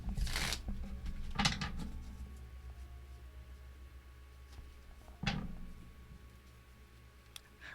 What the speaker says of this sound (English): It really doesn't want to shuffle.